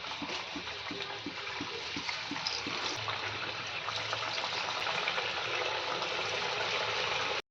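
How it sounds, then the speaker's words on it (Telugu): Pappu chekkalu, crisp Telugu rice crackers, sizzle and bubble steadily in hot oil, a continuous close frying hiss with no speech. "ఇప్పుడు ఒక్కొక్కటి తీసుకొని ఆయిల్లో వేసి ఫ్రై చేద్దాం"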